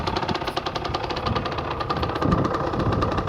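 Beta 50 RR enduro 50cc two-stroke motorcycle idling just after being started, a steady fast buzzing putter with rapid regular pulses, close and fairly loud, no talking over it.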